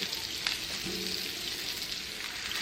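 Salmon fries in a hot skillet, giving off a steady, even sizzle like dense hiss that holds unbroken throughout, close and moderately loud with no talking.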